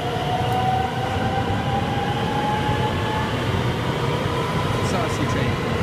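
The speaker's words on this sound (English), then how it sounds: "I think trains are really cool too. There goes another one." Japanese train passing nearby, a loud continuous rumble of wheels and rolling stock with faint tonal squeals, steady from start to finish.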